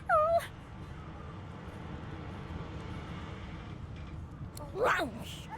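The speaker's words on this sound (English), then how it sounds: "The dog whines and continues" A dog whimpers in Divinity: Original Sin 2, with a brief high whine at the start and another rising whine near the end over a steady low game ambience.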